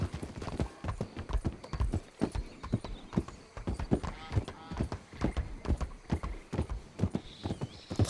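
Horse hooves clip-clop at a steady walking pace in a western video game, a close, regular stream of hollow clopping beats that runs the whole time under a man's occasional speech.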